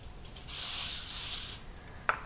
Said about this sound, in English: spray the top portion of it that we're going to put over the cheese with some cooking spray